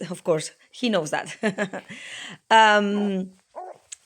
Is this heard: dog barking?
yes